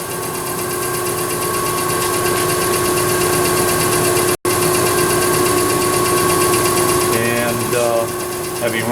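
A K.O. Lee B1020H CNC universal cylindrical grinder's wheel head runs with a large wheel fitted, giving a steady loud machine hum and whine with a brief dropout midway, and some faint chirping sounds near the end.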